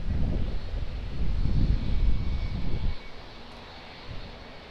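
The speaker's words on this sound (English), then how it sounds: "Pretty smooth landing there for the wind" An Airbus airliner lands at Auckland Airport in gusty wind, a loud broad engine roar with wind buffeting that drops away sharply partway through, leaving a quieter rumble.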